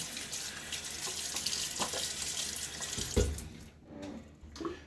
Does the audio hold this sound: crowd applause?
no